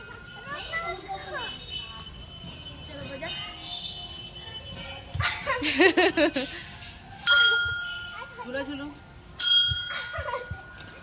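A metal temple bell at a temple in Saja, Bemetara, is struck twice a couple of seconds apart, each strike ringing out and slowly fading, amid nearby voices and chatter.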